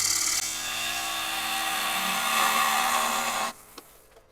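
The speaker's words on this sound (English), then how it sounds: "we'll take a finishing cut with the smaller gouge" A small bowl gouge takes a finishing cut on a highly figured English walnut bowl spinning on a lathe, a steady close scraping hiss that runs continuously, then stops abruptly near the end with a light knock.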